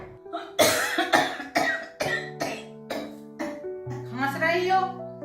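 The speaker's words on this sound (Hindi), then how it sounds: "खांस रही हो तो क्या टीबी हो गई?" A woman coughs repeatedly in a harsh, uneven burst, with a throat-clearing edge, close and indoors, amid a tense Hindi family argument; a voice speaks faintly alongside.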